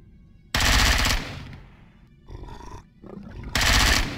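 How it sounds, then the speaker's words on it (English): Bursts of enemy gunfire in the sci-fi survival game Empyrion Galactic Survival, two loud sustained volleys separated by quieter rattling sounds in between. "Well, that's just his gun."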